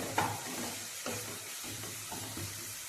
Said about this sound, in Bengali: মশলাটা খুব ভালো করে আমি কষাবো